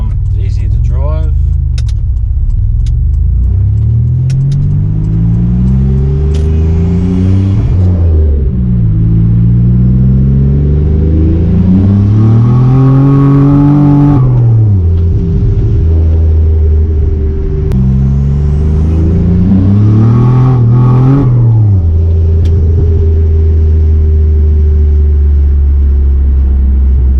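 A Nissan Navara with a turbocharged VG30 engine and the boost turned up accelerates on a drive: loud, close engine roar rising through the revs in repeated pulls, with dips between gear changes and talking inside the cab.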